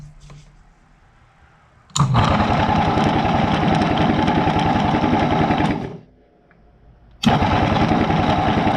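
A 1973 Yamaha AT3 motorcycle engine fires up on choke, running with a rapid buzzy two-stroke putter for about four seconds, cutting out, then catching again loudly.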